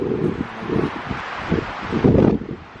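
Gusty wind at an abandoned Nevada gold-camp ghost town buffets the microphone in short, rough low rumbles that swell and fade, strongest toward the end.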